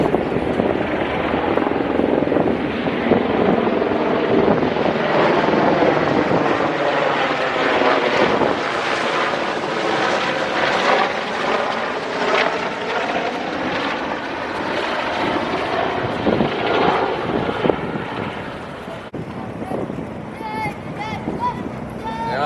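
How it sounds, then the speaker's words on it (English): A helicopter from the aircraft carrier Prince of Wales flies over Portsmouth Harbour with a loud, steady rotor and engine drone that fills the whole stretch and fades slightly near the end. "another helicopter going"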